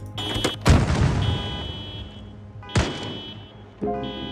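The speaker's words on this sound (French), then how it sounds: "Ça bombarde, ça tire, je fais quoi?" Bombardment and gunfire in the zombie survival game Project Zomboid, three heavy booming blasts, each followed by a long rumbling decay, with faint tonal game sounds in between and no speech.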